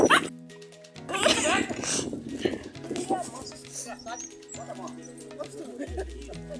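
A small dog barks in quick yips near the start, with people talking over and around it outdoors during a first vaccination outing with the dogs.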